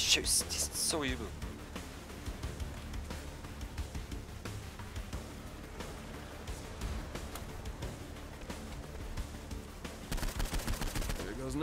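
Bursts of Saints Row IV gunfire crackle through the clip, dense and sharp, with someone talking and exclaiming over the shooting throughout.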